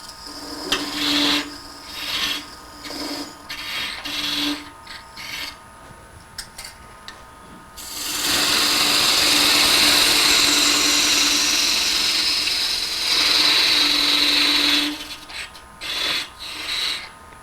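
A lathe tool cuts a tenon on a wood blank to fit a Talon chuck, with short rasping scrapes at first, then a long continuous gritty shaving sound for about seven seconds, followed by more short cuts.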